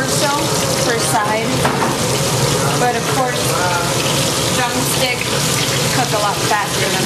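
Chicken drumsticks fry in hot oil at about 325 degrees, giving a loud, steady, dense sizzle and bubbling that runs unbroken throughout, with faint talk occasionally underneath.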